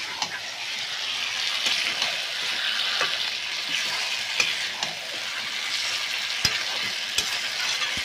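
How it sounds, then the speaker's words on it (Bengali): Goat mutton fries in a pan while a spatula stirs it, a steady close sizzle with regular sharp scrapes and knocks of the utensil against the pan, and no voices. "ভালো করে নাড়াচাড়া করে মিশিয়ে নেব।"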